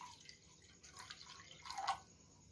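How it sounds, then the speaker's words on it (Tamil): Water going into a cooking pan to make jaggery syrup for a moong dal and sago payasam, heard as faint dripping and splashing with a slightly fuller splash near the end, with no talking. "இப்போ வெல்லம் பாகு காச தண்ணி போட்டுக்கிறோம்."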